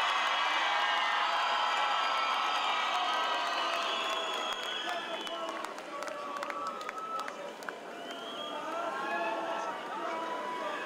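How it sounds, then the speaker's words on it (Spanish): A concert crowd gives a full ovation to a singer-guitarist: dense, sustained applause with cheers and whoops, loud and continuous for about eleven seconds, easing slightly midway before swelling again. "¡Ovación total!"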